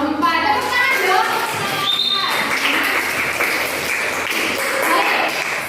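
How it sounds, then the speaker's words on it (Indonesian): A classroom of students applauds a student group after its presentation, lively clapping mixed with children's voices and chatter, steady and fairly loud throughout. "Tepuk tangan dong."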